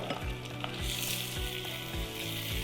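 Coarsely minced meat frying in a pan with golden-browned onions for stuffed eggplant, a loud continuous sizzle with regular low thumps of stirring roughly every half second, close by.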